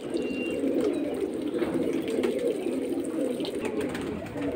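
Grizzle pigeons, large pairs with eggs and chicks, coo at a pigeon market. Continuous soft, throaty cooing sounds up close and steady, with faint market background and no speech.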